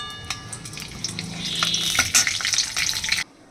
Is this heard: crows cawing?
no